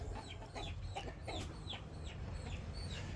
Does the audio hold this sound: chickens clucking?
yes